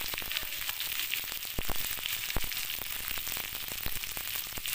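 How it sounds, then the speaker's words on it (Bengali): Capsicum, onion and green chillies stir-frying in a hot pan for chilli paneer, giving a bright, continuous sizzle broken by sharp crackles and pops and brief stirring scrapes. "ক্যাপসিকামগুলোকে কেটে রাখা সেগুলো দিয়ে এবারে ভালো করে নাড়াচাড়া করব"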